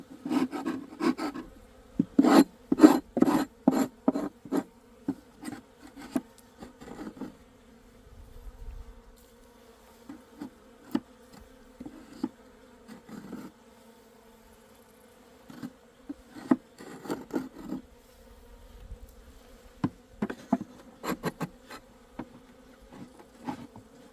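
Steady buzzing of many Asian honeybees close by at an opened hive, with scraping and knocking handling noises that come and go, loudest near the start.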